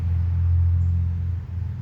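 A Stihl MS 461 chainsaw fitted with an 044/440 gas tank, running after a rough carburetor tuning: a steady, low, rumbling idle that holds even throughout, with no voices.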